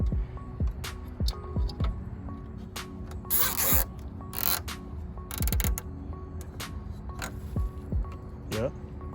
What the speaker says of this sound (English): Getting some zip ties on.